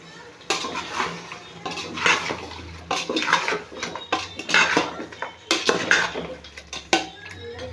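Cooked mutton is added to masala in a pot, giving clattering metal pot and spoon knocks and scraping in uneven bursts, close and fairly loud.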